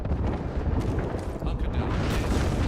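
Artillery strike explosions in a video game, a dense, continuous rumbling barrage of booms filling the whole stretch at steady loudness, with no clear gaps between impacts.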